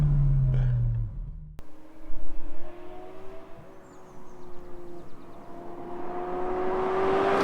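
A Ferrari 360 Spider's 3.6-litre V8 with manual gearbox drones steadily from inside the open cabriolet, its engine note rising gradually as it accelerates, after a brief louder burst at the start.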